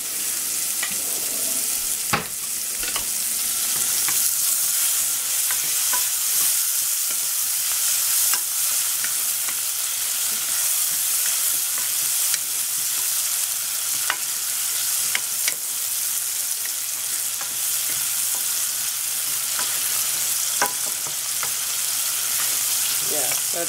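Vegetables for vegan nachos sauté in a hot pan with a steady, dense sizzle and occasional scraping stirs throughout, with no talking.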